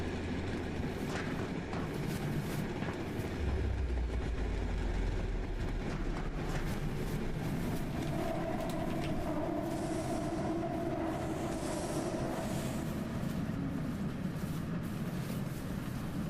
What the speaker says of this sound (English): The rail system is going to need a completely different sound effect